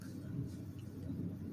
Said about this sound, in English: Right now we're having a thunderstorm, so you might hear some thunder in the background.